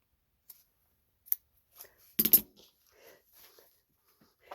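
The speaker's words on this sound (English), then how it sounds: "Get it started with scissors." Scissors snip at a strip of fabric along a jacket zipper, a few faint scattered clicks and one sharper cluster of cuts in a quiet room.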